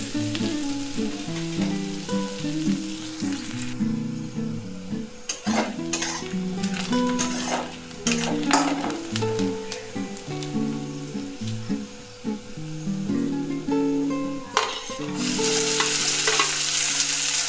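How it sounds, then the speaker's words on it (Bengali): Onions fry in a pan for a Bengali breakfast dish, a steady sizzle broken by repeated stirring scrapes and clinks of a utensil against the pan, with the sizzle swelling louder near the end. "পেঁয়াজটা যতক্ষণে লাল হচ্ছে ততক্ষণ ভাজতে হবে"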